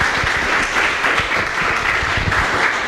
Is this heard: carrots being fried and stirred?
no